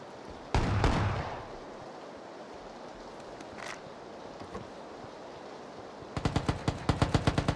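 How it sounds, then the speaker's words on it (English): Gunfire in the battle royale game PUBG: one loud close shot with a fading echo, a few scattered distant pops, then a rapid burst of about ten evenly spaced shots near the end. "Lots of shooting."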